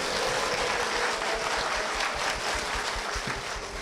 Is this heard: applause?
yes